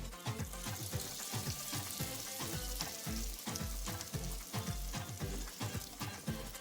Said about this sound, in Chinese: 约170度左右，中大火来炸， 稍微的拉伸，放到热油里边